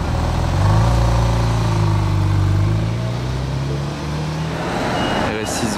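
A Ferrari 488 Pista engine starts in Monaco, a loud low rumble settling into a rising then easing drone, with a street crowd and voices around it.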